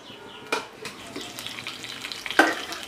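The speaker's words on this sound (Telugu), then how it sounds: "ఈ ఆయిల్ హిటెక్కిందండి, దీంట్లో ఈ పోపు దినుసులు, ఎండుమిర్చి, వెల్లుల్లి వేసానండి" Dried red chilies, garlic and tempering spices dropped into hot oil for a mung dal sambar, close crackling and sizzling with a few sharp spattering pops, no talk.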